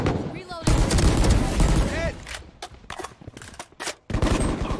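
Valorant gunfire from a competitive match: dense bursts of rapid shots fill the clip loudly, with sharp single cracks in the second half and brief gaps between volleys, while players talk over the action.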